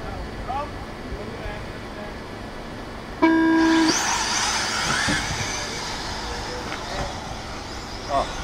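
A single electronic start tone sounds for under a second at a 1/10 scale truggy RC off-road race, a steady pitched beep over outdoor crowd and motor noise, followed by rising buzz of engines.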